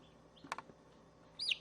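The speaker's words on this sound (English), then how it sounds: "we can still hear the cry of the chick within the body of the python" A chick cries from inside the body of a python that has just swallowed it whole, a faint, muffled burst of short chirps followed after a pause by a clearer, higher peep.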